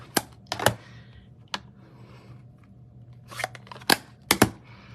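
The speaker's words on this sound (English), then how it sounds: "I'm going to close up all these ink pads" Ink pad lids snap shut one after another on a crafting table, sharp plastic clicks in small irregular groups, close and moderately loud.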